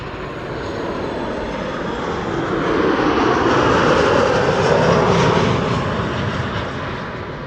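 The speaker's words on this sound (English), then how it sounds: "KLM 737 arriving for Copenhagen" KLM Boeing 737 jet arriving at Amsterdam Schiphol, a broad roaring rush that swells to a peak midway and then eases off, loud and alone with no voices.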